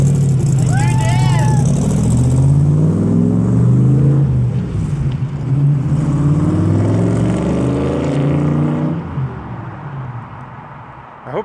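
A 1965 Shelby Cobra engine rumbles loudly and pulls away down the road, a deep throaty drone that shifts pitch as it accelerates and then fades near the end.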